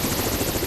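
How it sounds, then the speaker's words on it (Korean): A rescue helicopter passes over the Jungcheong mountain shelter in Seoraksan in snowy winter weather, its rotor producing a loud, steady, rapid thudding chop that fills the brief moment with no voices. "중청 대피소 상공에 구조 헬기가 나타났다."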